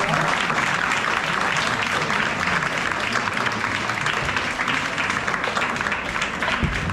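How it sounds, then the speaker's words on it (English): A crowd applauds music performers at a classical arts concert in Houston, with dense, steady clapping that holds loud and continuous throughout. "Let's give them another big round of applause."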